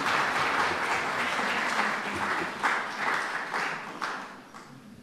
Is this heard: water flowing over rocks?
no